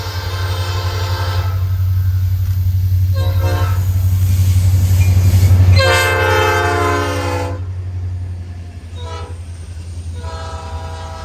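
A freight train, the Fostoria turn, rumbles past near Fostoria, Ohio, its horn sounding in several long blasts over a steady low roll of the cars.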